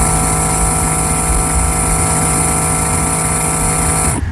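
A rechargeable scent releaser gives off a loud, steady mechanical drone like a small engine, with a low hum and a high whine held at a constant pitch until it cuts off abruptly near the end.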